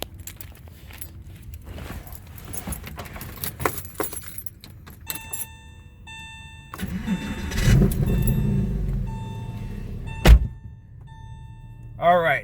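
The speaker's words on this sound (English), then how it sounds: "So let's start it up." Keys jingle in the ignition of a 1999 Porsche 911 (996) with 61k miles, then the engine cranks and catches into a deep, steady idle close by, with a few clunks and a brief sharp knock near the end.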